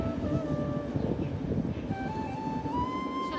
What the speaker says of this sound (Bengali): ট্রেনটা চলে গেল।